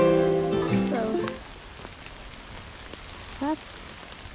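Rain patters steadily on a hiking trail in Stowe, Vermont. A voice is heard briefly at the start and again near the end.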